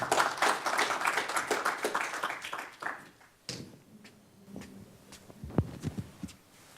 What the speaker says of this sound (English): please join me in giving a round of welcoming round of applause